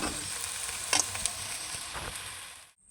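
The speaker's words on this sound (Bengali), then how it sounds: "এখন ভেজে রাখা মাছের মাথাগুলোকে আমি দিয়ে দেবো" Fried rohu fish heads dropped into a hot pan of oil for an elephant foot yam curry, giving a steady close sizzle with a couple of sharp spatters before it cuts off abruptly.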